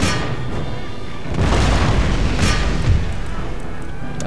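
Battle sounds from the strategy game Empire: Total War, a dense roar of booming gunfire and artillery with several louder blasts and crackling bursts scattered over the din.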